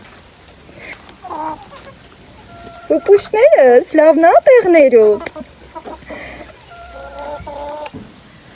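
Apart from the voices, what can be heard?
hens clucking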